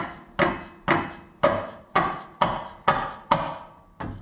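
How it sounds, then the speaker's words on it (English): A soft hammer strikes eight times in an even, steady rhythm during a Jeep suspension lift install, each blow a dull, close thud with a short ring-out. "soft hammer."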